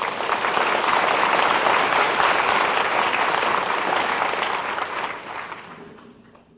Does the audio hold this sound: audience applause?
yes